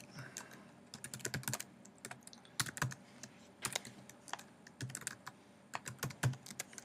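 An account password being typed on a computer keyboard, heard as steady, fairly close key taps in irregular bursts over a faint background hiss, with no voices.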